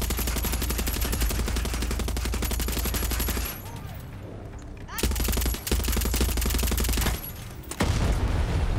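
Dense, continuous automatic gunfire from the video game Far Cry 6, loud and sustained with a short lull near the middle before the rapid shooting resumes, then another brief break and more fire.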